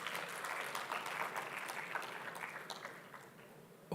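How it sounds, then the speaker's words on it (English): Audience applause at a tech talent expo hall, a steady wash of many hands clapping at moderate distance that gradually thins out toward the end. "So give him a big round of applause for remembering that."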